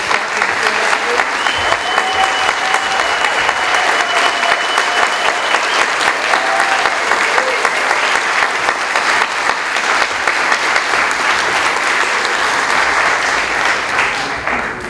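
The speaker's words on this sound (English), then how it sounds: "could our sponsors please stand for a truly well-deserved round of applause" Loud, sustained applause from a festival opening night audience honoring the sponsors, thick and continuous clapping that holds for about fifteen seconds with a few faint voices in the mix.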